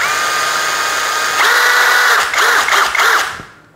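A DOLIZ BD636 12V brushless cordless drill whines steadily at speed, then rises higher when the trigger goes deeper and wavers through several quick speed changes before spinning down, loud and close.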